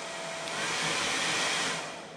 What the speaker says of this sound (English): Now we're gonna add the hair dryer.